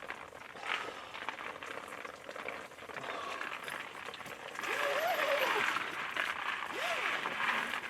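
An outdoor camp shower runs a hot stream of filtered, fire-heated water, a steady soft hiss of spray and splashing that gets louder partway through, with a few faint vocal sounds over it.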